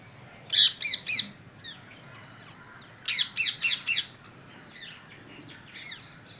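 A peacock calls from close by outdoors near trees and a tin roof, two bursts of loud, piercing, repeated cries a few seconds apart over quiet background birdsong.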